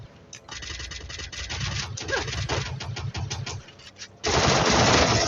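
Gunfire in the mobile shooter Free Fire during a ranked 4v4 match, loud rapid automatic bursts that drop off briefly and then resume in a dense final volley, with a voice audible faintly underneath.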